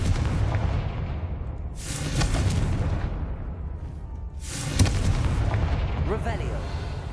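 Fiery Confringo spell blasts in Hogwarts Legacy, two loud booming explosions a few seconds apart, each followed by a rumbling roar that fades into steady background noise.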